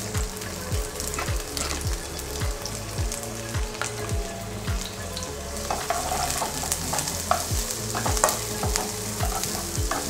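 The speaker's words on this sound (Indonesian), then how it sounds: "Kita tumis sampai dia naik bau ya." Garlic and shallots fry in hot oil in a pan, giving a loud, continuous close sizzle with steady stirring and scraping throughout, and no voices.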